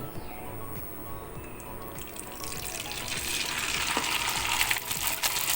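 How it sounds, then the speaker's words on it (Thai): Sun-dried tofu frying in hot oil for crispy Thai fried tofu: a dense, steady sizzle and crackle that builds and grows louder as the pieces settle in the oil, with no talking. "เดี๋ยวเราจะมาทอดเต้าหู้กัน"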